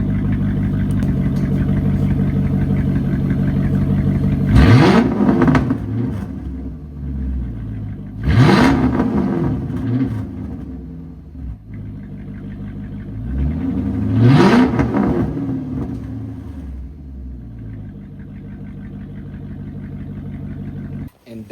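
A 5.7 Hemi engine, just repaired after an oil pressure problem, revs hard three times from a steady idle, each burst swelling loud and falling back, with a voice talking at moments.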